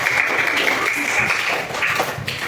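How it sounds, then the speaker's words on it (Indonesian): A classroom of students claps for themselves, a steady burst of applause with scattered taps and thuds that fills the room for a few seconds. "silakan berikan tepuk tangan pada diri sendiri"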